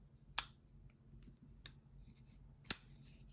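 A Spyderco Watu pocketknife blade flicked open and dropped shut, four crisp metallic clicks spaced irregularly over a quiet background, close up and alone.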